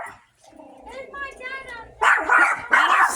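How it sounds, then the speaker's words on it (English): Several dogs bark and yip nearby in a busy household, loud, irregular bursts that rise sharply in the second half, with people talking over and between the barks. "I can't hear you because the dogs are barking."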